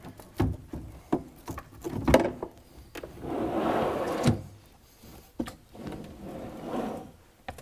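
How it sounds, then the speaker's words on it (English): A coffee cart drawer slides out with a sustained scraping rumble, surrounded by several sharp knocks and clicks of handling. "free to slide this drawer out."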